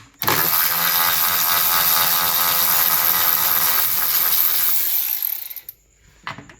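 A ratchet spins a bolt out on a refreshed Tesla Model S during a 12V battery swap, a steady loud mechanical clicking that runs for about five seconds before stopping, followed by a few faint handling noises.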